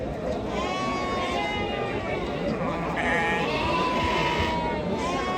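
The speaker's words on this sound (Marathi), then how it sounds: "शिंगा असलेल्या मेंढ्या कर्नाटकच्या" Horned Karnataka sheep bleat repeatedly at a busy livestock market, their wavering calls rising over a dense, steady murmur of crowd chatter and movement.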